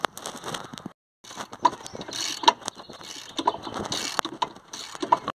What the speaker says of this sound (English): Now we're going to remove this caliper holder bracket and use a 21mm socket there.